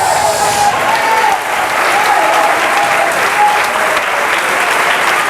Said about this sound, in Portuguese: Só quem crê glorifica e senta aplaudindo a Jesus.